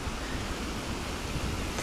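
A 30-metre waterfall at Azau in the Elbrus area roars steadily, a dense, continuous broadband rush of falling water heard close and loud with no talk.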